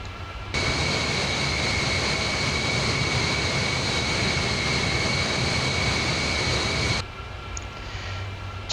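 An Avro Vulcan bomber roars through the Mach Loop, a steady, loud, broadband jet-engine rush with a high whine that holds for several seconds, then cuts off abruptly.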